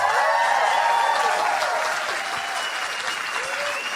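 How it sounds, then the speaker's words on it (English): Audience at a stand-up comedy show breaks into loud, steady applause, a dense wash of clapping that fills the room and slowly eases off. "That was a great applause."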